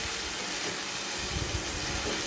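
A loud, steady steaming hiss as a small amount of water is added to spice paste frying in a pan, while making a spiced beef brain curry.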